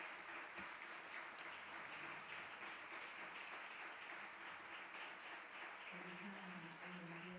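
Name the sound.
audience applause at press conference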